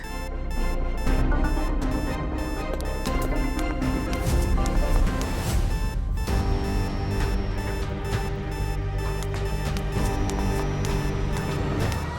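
A safe's alarm blares in a continuous electronic beeping tone, loud and unbroken for about twelve seconds, layered over dense background sound.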